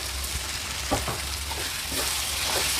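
Squid stir-fried in a pan with garlic, shallot, ginger, turmeric and pepper, a steady close sizzle with a few soft stirring scrapes, no voices.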